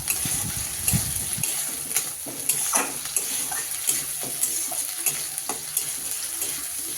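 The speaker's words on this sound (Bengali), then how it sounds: "সেই বাটা পেঁয়াজটা দিয়ে এবার কিন্তু আমি সুন্দর করে লাল লাল করে পেঁয়াজগুলোকে ভেজে নেব।" Onion paste fries in a pan for a prawn malai curry, giving a steady close sizzle broken by repeated scraping and clinking stirs of a utensil against the pan, with no talking.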